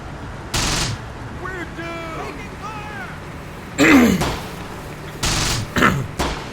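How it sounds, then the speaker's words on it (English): Enemy machine gun fire in the Close Combat war game: short bursts of rattling fire cut through a busy battle mix, heard alongside tonal game effects and a voice. "Oh boy, it's got to be an enemy MG."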